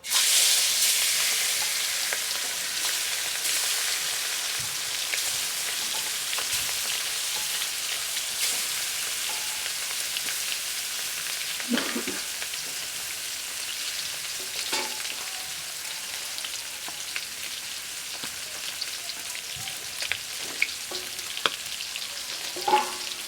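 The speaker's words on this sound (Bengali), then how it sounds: "তেল গরম হয়ে গেছে এখন মাছগুলো দিয়ে দেবো" Tuna fish pieces fry in hot oil with a continuous bright sizzle and crackle, steady and close, with occasional louder spits and pops and no talking.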